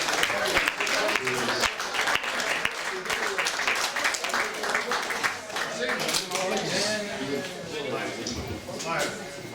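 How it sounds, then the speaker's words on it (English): An audience applauds in a Birmingham talk venue as a speaker named Darren Jones is welcomed back, dense clapping running continuously for nearly ten seconds at a fairly even level. "we should give him a massive round of applause"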